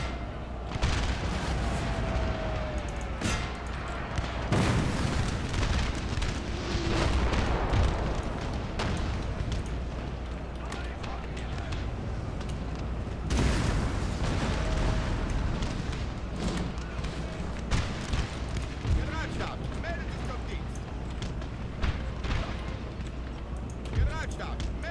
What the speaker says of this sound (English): My cannons are doing the best job up here.